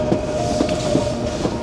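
A passenger train ride in Skagway, Alaska, heard from aboard the car as a loud, steady rumble with rhythmic clickety-clack of wheels over rail joints and a faint tonal hum.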